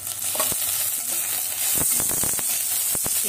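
Green chilies dropped into hot oil over lightly browned onion, hissing and sizzling loudly up close, with sharp crackles and a few scraping stirs.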